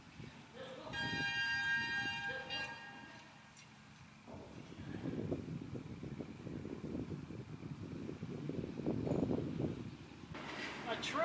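A train rumbles past with a droning, rattling roar, preceded by a high horn or bell tone; voices talk over the passing noise.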